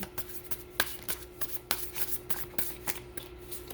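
A new tarot card deck being shuffled by hand at close range, a steady run of soft riffling snaps and card slaps with no talking.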